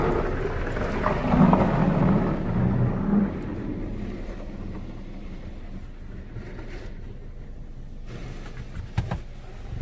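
Water spray drums steadily over a car inside a Ryko Softgloss Maxx 5 automatic car wash. The broad, rain-like roar is heaviest early on, then eases to a softer hiss with a few sharp knocks near the end.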